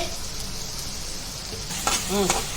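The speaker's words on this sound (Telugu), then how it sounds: "ఇప్పుడు టమాటో వేసుకుందామండి" Tomato sizzles and fries loudly in a pan for a mushroom fry, a constant close crackling hiss with stirring scrapes toward the end and a brief faint voice-like tone under it.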